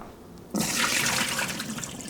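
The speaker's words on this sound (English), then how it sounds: "then drain the water and put them back into some more cold water." Soaking water drained off cut potatoes for chips, a sudden rush of pouring water that starts after a quiet moment and runs on steadily, close and loud.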